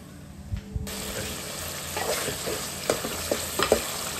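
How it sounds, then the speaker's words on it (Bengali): Spice paste frying with fresh tomato in a pan for a meat and liver curry: a loud sizzle starts suddenly after a couple of clunks, then continues with scraping stir strokes and clatters. "মশলাটাকে একটু কষিয়ে নেব, আর এতে দিয়ে দিব সামান্য ফ্রেশ টমেটো, মশলার সাথে একদম কষিয়ে যাবে।"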